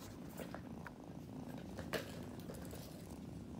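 A kitten purrs close up while being cuddled, a soft continuous rumbling purr that holds steady throughout, with a faint brief rustle partway through and no talking.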